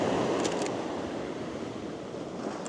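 Ocean surf breaks on a shore in a continuous soft wash of noise, heard at a middle distance and fairly quiet, with a little wind on the microphone and no voices.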